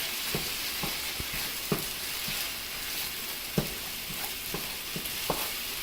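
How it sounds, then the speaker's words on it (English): Parsi kheema, spiced minced meat, fries in a pan under a steady close sizzle, while a spoon stirring it knocks against the pan in scattered soft taps, about a dozen over a few seconds. "Give this a good stir."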